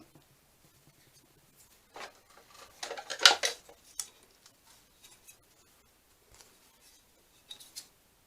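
Scissors snipping paper for a junk journal, a cluster of close, crisp cuts in the middle followed by a few sparse, quieter snips in an otherwise quiet room.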